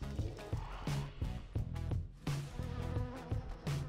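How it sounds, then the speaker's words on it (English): Swarm of Flies is cast in a turn-based pet battle game, bringing a buzzing insect drone mixed with rhythmic, repeated game sound effects and short percussive hits. The sound plays steadily at moderate level with no talk. "Start with Beanax and cast Swarm of Flies."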